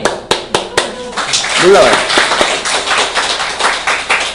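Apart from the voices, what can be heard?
congregation clapping in church service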